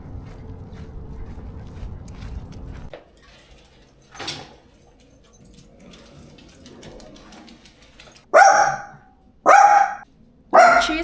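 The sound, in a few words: dog barking at cars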